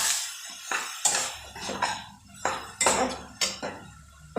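A spoon scrapes and knocks against a pan as spiced ripe mango chutney is stirred, giving a string of close, uneven clinks and scrapes with short pauses between them.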